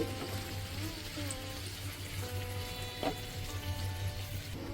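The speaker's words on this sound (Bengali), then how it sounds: "তেল গরম হয়ে গেলে এর মধ্যে দিয়ে দেব পেঁয়াজ কুচি" Chopped onions hiss and sizzle in hot oil for eggplant bharta, a soft, steady frying crackle heard close and alone at low volume, with faint background hum.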